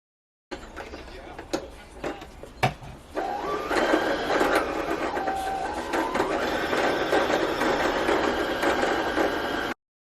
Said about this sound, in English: this is what I was saying about with my sewing machine having different stitches. So I'm going to do a decorative stitch.